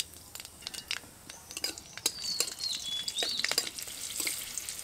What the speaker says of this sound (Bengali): তেলের মধ্যে দিয়ে দেব কালো জিরে ফোড়ন, 4টে চেরা কাঁচা লঙ্কা দেব